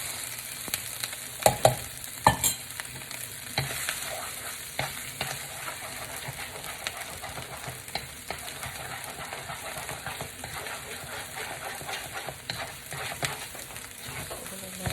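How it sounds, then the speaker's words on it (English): Eggs frying in a pan beside sesame chicken, a steady broadband sizzle running throughout with a few sharper crackles and clicks near the start, moderately loud and close. "I'm going to fry up these eggs just on the side"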